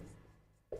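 A teacher writes on a board during a lesson on the Indus Valley civilization, producing soft scratchy strokes for a moment before a louder tap near the end, with no speech over it.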